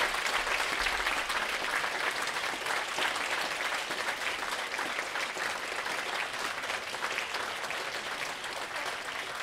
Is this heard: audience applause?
yes